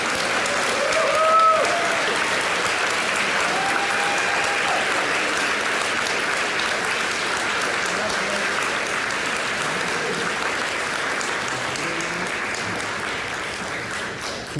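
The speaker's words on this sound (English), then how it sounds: "Please join me in a resounding round of applause for Norris Daniel." Sustained applause from a college convocation audience, dense steady clapping filling the hall for nearly fifteen seconds, with faint whoops or voices early on and a slight fade toward the close.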